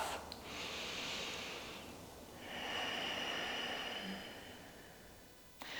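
Slow, deliberate yoga breaths during a seated stretch: two long, airy exhales with a pause between them, close and fairly quiet, with no talking.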